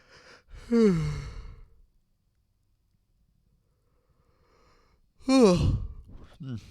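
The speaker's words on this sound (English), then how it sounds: "Yawning." A person gives two long, drawn-out voiced yawns separated by several seconds of near silence, each loud and close with a sighing, falling tone.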